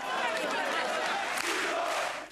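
A Greek street protest crowd shouts anti-government slogans, the dense roar of many voices filling the whole stretch loudly and continuously, with no single speaker standing out.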